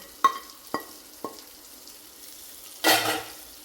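Fried quail eggs are stirred in a pan, with three sharp, spaced utensil taps on the metal followed by a brief, louder burst of sizzling.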